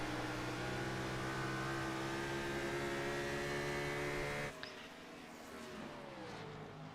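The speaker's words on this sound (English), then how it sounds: "Let me know if the car sounds are any better." Race car engines from an ANZCAR Cup race on the Dover track in a racing video game: a steady, droning engine hum with layered tones that shifts abruptly partway through to a lower, rougher rumble.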